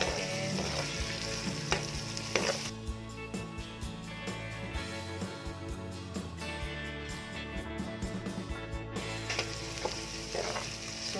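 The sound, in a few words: carrots being stir-fried and mixed in a pan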